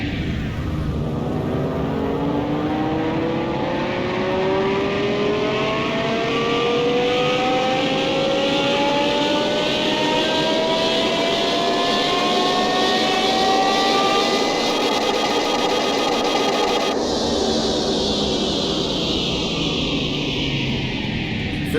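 A car engine revving on a dyno in Car Mechanic Simulator 2021, after a performance gearbox was fitted. The pitch climbs steadily through a long pull, drops sharply as it shifts, then continues loud and steady.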